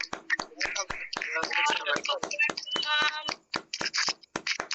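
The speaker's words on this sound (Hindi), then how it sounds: "सभी साथी जोरदार तालियों के साथ वेलकम करें" A small audience claps to welcome a speaker at a business meeting, with crisp, close hand claps coming in uneven bursts while several people call out and talk.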